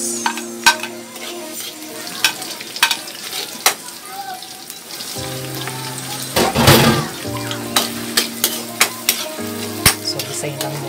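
Garlic and onion sautéing in a pan, bright and close. The sizzle is loud and continuous, with repeated sharp clinks and scrapes of a spatula and a brief burst of louder crackling midway. There is no talk.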